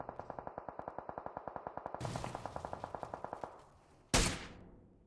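Rapid automatic-weapon sprays in PUBG Mobile, a fast even rhythm of about two dozen sharp shots with a second burst overlapping, then one loud isolated crack near the end.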